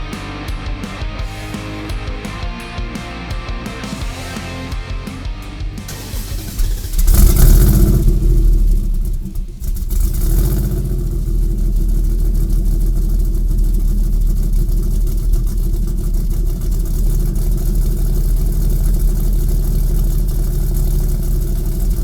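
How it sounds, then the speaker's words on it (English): An 800-horsepower Trans Am Challenger prototype engine fires up loudly and close after a quieter opening stretch, catching with a burst and then settling into a steady, rumbling run. "when it comes to firing one of these engines up"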